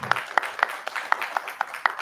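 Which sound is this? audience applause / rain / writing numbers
audience applause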